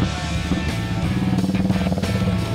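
A motorcycle ridden by a child runs nearby with a steady, pulsing engine putter and slight rises in revs.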